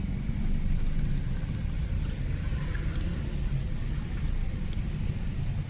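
Jammed road traffic in Johar Town, Lahore, beside road construction, a steady loud rumble of engines and passing cars with no horn or voice standing out.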